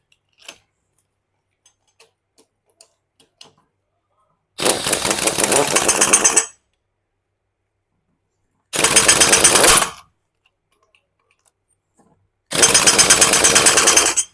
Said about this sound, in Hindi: नट हमारा परफेक्ट टाइट हो गया मशीन से।